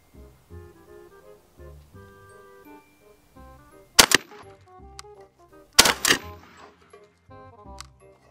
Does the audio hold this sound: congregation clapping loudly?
no